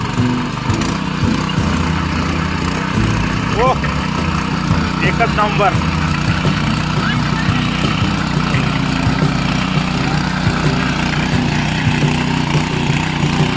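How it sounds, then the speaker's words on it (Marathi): A tractor engine drones steadily throughout in a rice field, a continuous mid-to-low rumble with people talking over it. "तर आता निखिलची आई चालवते बघा ट्रॅक्टर"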